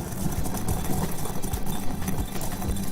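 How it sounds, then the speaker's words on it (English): A teaspoon of cumin seeds is ground for a roasted pepper soup, giving a steady, loud, continuous mechanical whirr that runs unbroken for the whole stretch with no talking. "a teaspoon of cumin seeds, which I'm going to grind myself"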